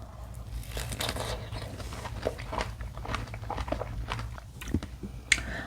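Crunchy bites and wet chewing of large, juicy, slightly underripe snow-flower strawberries eaten close to the mic, repeated irregular crisp bursts over a soft steady background with no talk.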